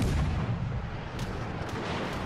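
Enemy gunfire aimed at the player in a combat video game, a dense, continuous barrage of booming shots and blasts filling the whole stretch at steady loudness, with no talk.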